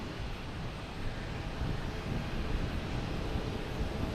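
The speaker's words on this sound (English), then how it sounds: "next to arrive is a JetBlue coming in from Paris. An A321neo." A JetBlue Airbus A321neo arriving from Paris at Boston Logan makes a faint, distant, even jet rumble that swells slightly, with a touch of wind.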